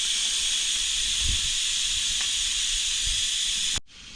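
Steam hissing steadily from a pot of freshly cooked rice outdoors in a forest, a loud, even hiss with a few faint knocks beneath it that cuts off abruptly near the end.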